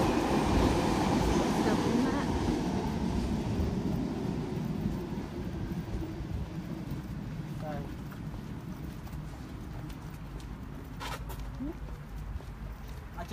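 A metro tram rumbles past behind a studio in Altrincham, a broad low roar strongest at first and slowly easing off over about thirteen seconds, with occasional faint squeals and voices talking nearby.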